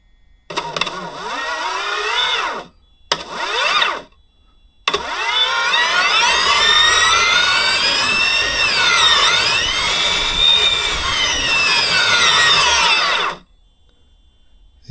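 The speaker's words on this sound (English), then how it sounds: "The radio is all hooked up, so it should arm now and drive in theory." Drone-based R/C speed car's electric motors spinning up loud and whining, two short bursts then a long sustained run with rising and falling pitch sweeps, close by.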